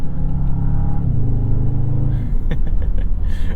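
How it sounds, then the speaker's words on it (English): A 2023 Bentley Continental GT Convertible's deep engine rumbles and revs steadily up close, its pitch rising and settling, with a few sharp mechanical clicks near the end. "and then just the general gruntiness of this engine"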